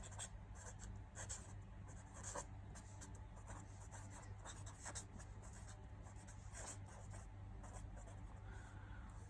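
Math is being written on a board, heard as quiet, scratchy strokes in short repeated bursts against a low background hum, with no one speaking.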